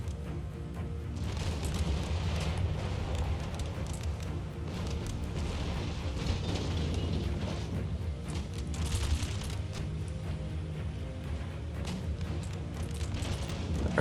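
Artillery fire in Empire Total War, a battle with smoke drifting on a windy map: a steady, distant rumble of booms blended into a continuous low roar of battle, with no distinct individual shots.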